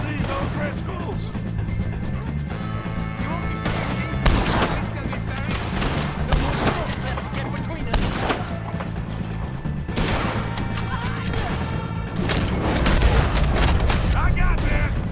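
Rapid gunfire cracks and booms in a Red Dead Redemption 2 shootout against O'Driscolls, dense volleys of loud shots and impacts repeating throughout, with voices shouting amid the noise.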